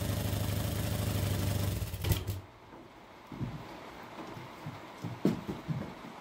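A small motor with a carburettor idles steadily, then cuts out after about two seconds, leaving scattered clicks and knocks from the engine and workbench.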